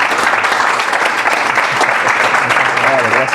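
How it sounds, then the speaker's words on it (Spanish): An audience at a talk on African and Indigenous influence in Brazilian Spiritualism breaks into loud, continuous applause for the speaker, close and dense throughout. "yo creo que le tenemos que animar con un aplauso"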